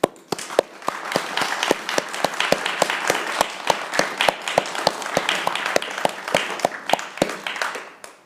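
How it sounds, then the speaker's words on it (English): Seminar audience applauding the speakers: dense, steady clapping from a roomful of people with sharp individual claps standing out, continuous and fairly loud for the whole stretch before tapering at the end. "So let's applaud them."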